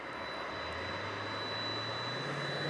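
A DHL cargo aircraft in red and yellow livery, operated by ABX Air, moves on the runway at DFW Airport at night. Its engines give a loud, steady, continuous roar with no voices.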